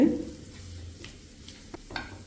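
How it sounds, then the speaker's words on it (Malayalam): Egg snack mixture sautéed and stirred in a pan, a faint low sizzle with a few soft scraping strokes of a utensil, nearby and without talk. "ഇനി വീണ്ടും ഒന്ന് വഴറ്റിയെടുക്കാം"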